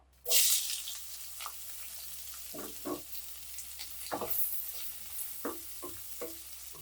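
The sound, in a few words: onions sautéing in oil in a pan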